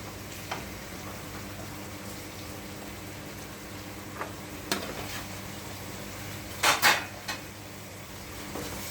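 Carrots stir-fry in a pan for vegetable fried rice, a low steady sizzle under occasional scrapes and knocks of a utensil, with a cluster of sharper clinks toward the end.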